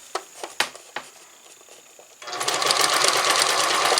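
A sewing machine stitches piping cord for a sewing project, starting after a few light taps and then running in a steady, close, fast continuous whir until the end.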